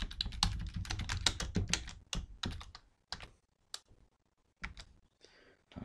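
Fast close clicking on a computer keyboard as a comment is typed, dense at first and then thinning to scattered single keystrokes with pauses between them.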